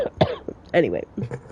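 A man gives a short, sharp cough between bits of casual speech, close and fairly loud.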